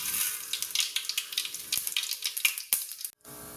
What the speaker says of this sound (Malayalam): നമുക്കിനി അല്പം കടുകിട്ട് കൊടുക്കാം.